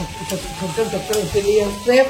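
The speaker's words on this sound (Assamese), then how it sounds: "মায়ে এতিয়া বনাই আছে এই আছে বিন আলু ভাজি" Beans and potato fried in a pan at home, stirred with quick scraping strokes over a soft sizzle, close and fairly loud, with faint background voices.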